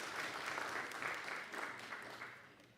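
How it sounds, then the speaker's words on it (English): Applause from members of a provincial legislature sitting in the house, a steady patter of many hands clapping for about three seconds that slowly fades, with no talk over it. "Can we give them a round of applause,"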